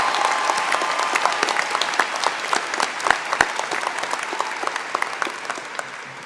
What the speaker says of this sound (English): Please give a round of applause for class of 2022.